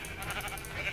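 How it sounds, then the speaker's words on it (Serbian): A sheep bleats in the Minecraft video game: a short, close, wavering bleat about one second long, heard alone. "Evo ovca!"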